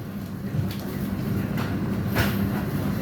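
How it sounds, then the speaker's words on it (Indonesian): A fuel tanker freight train rolls through Maos station with a steady loud rumble and faint rhythmic wheel clatter, close by and continuous. "ini adalah rangkaian dari kereta BBM ke Tegal sepertinya teman-teman"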